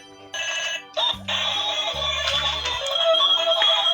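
A toy telephone plays a bright electronic ringtone, a tinny repeating melody with short beeping tones that starts, pauses briefly and continues loudly and close.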